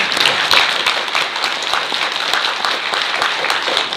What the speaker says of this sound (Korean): 우선 박수 한번 보내주세요.